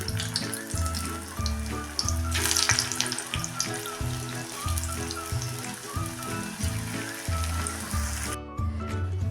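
Second batch of masala vadi dropped into hot oil, frying with a loud, steady sizzle and crackle that bubbles continuously throughout, close up, with no talking.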